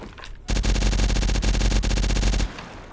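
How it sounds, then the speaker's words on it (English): A burst of rapid automatic gunfire from modded guns in 7 Days to Die, loud and close, running about two seconds in a dense stream of shots before cutting off. "as you sit here and shoot"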